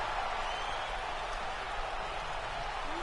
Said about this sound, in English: You heard the crowd going crazy with it.